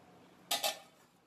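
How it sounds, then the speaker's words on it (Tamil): Two quick metallic clinks in succession as a lid is lifted off a pot of simmering kuzhambu curry, knocking against the rim, in an otherwise quiet kitchen. "இப்போ வந்து மூடியை திறக்கிறேன்."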